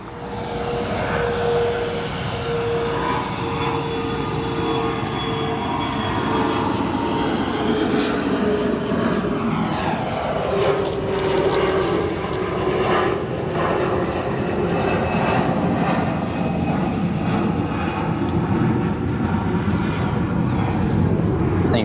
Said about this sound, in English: The United now departing 28 right to Heathrow.